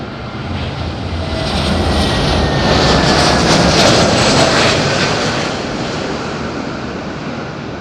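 Loud, sustained jet roar from an EasyJet airliner at Madeira Airport, swelling and then easing as the aircraft passes close by, with no talk.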